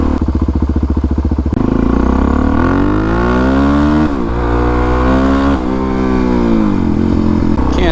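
Motorcycle engine with an aftermarket pipe and a rich-running carburetor, idling with a fast loud putter before revving up and down in repeated sweeps, close and strong.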